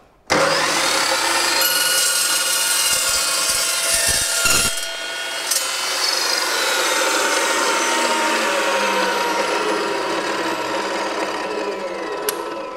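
A loud, continuous abrasive grinding of a metal chop saw cutting through flat bar, steady for the whole stretch after a brief start.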